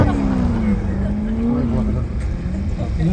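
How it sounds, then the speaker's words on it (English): Race car on a paved mile oval at an E.C.T.A. motorsports event, engine droning loud and close in a sustained high-revving whine that holds and wavers as it bounces against the rev limiter, with a voice talking over it. "He hit the rev limiter."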